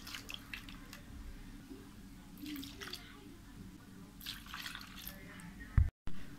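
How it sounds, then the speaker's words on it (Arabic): Milk is poured over strawberries and sugar, making soft, intermittent liquid splashes and trickles at low volume, with a brief louder knock near the end. "هنحط 3 كوبايات لبن"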